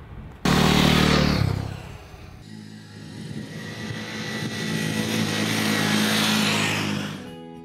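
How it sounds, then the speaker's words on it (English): A KTM 390 Adventure motorcycle is ridden off road in Baja, a sharp loud engine burst at the start giving way to steady revving that builds and fades over several seconds, close to the mic. "I really love this 390 adventure bike"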